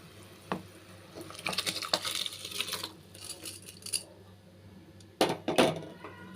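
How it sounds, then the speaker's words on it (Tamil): Raw rice tipped into a pot of boiling water for pea pulao, a short rattling pour with metallic clinks of the pot, fairly close, followed by another brief burst of rattling. "இப்போ வந்து அரிசியை சேர்த்துக்கிறேன்"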